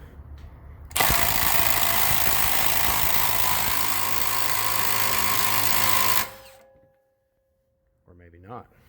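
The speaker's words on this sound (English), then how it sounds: "Should be loose enough I can pull the rest of it out with this. Mr. Milwaukee Fuel 18." A Milwaukee M18 Fuel cordless power tool whirs loudly and steadily for about five seconds while removing a shock bolt on a 2015 Ford Taurus SHO, then winds down; a brief voice follows.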